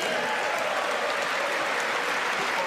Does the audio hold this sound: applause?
yes